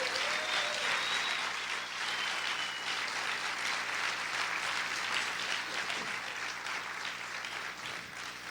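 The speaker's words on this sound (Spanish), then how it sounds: "Aplauda fuerte al Señor en esta hora." A church congregation claps loudly together during a service, producing a dense, sustained wash of applause that carries on for several seconds and fades slightly toward the end.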